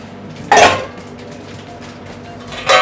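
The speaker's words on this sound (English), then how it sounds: "start mixing it already a little bit in the bowl, because sometimes it gets stuck" Two clattering bursts of a utensil scraping and knocking in a bowl as tiramisu ingredients are mixed with sugar, each short and fairly close, separated by a quieter stretch of low kitchen background.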